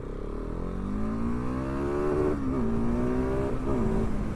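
A KTM 690 SMC R supermoto motorcycle accelerating hard, its single-cylinder engine note climbing steadily through the revs with a couple of brief dips at gear changes, loud and close throughout.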